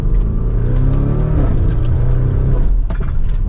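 A Lamborghini Urus pulls hard from second gear with a deep, rising engine roar heard up close from inside the cabin, steady and loud throughout with no talking.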